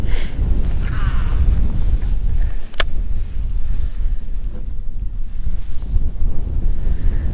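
Strong wind buffets the microphone on a lake during a spring redfish fishing trip, a loud steady roar with water lapping beneath it and no voices.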